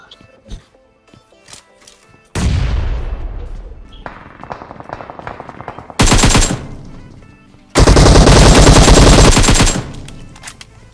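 Automatic-weapon fire in the video game PUBG, with short scattered shots followed by loud sustained bursts that break off and restart, close and dominant.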